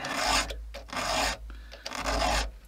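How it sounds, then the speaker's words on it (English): Chainsaw chain sharpened with a hand file, three close rasping strokes in a steady back-and-forth rhythm with short gaps between them, loud and alone without talking. "You just need two files, one round, one flat, so one for the teeth and one for the rakers,"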